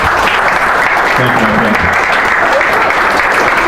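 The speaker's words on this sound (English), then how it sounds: "Please give me another round of applause." A meetup audience gives a round of applause, dense, loud clapping from a room of people that runs throughout while someone briefly speaks over it.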